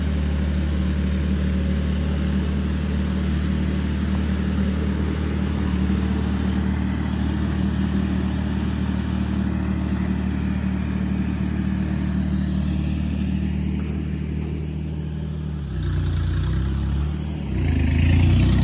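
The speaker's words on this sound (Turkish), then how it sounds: "bu traktörün sesinin değişik sebebi egzoz yanda" A heavy tractor engine with a side-mounted exhaust idles steadily and close by with a low rumbling drone, then briefly revs and shifts in pitch near the end.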